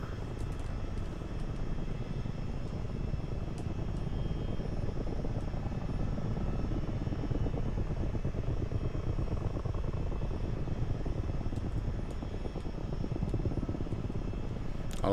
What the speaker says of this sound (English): I like the fact you can turn up that rotor slap noise both inside and outside.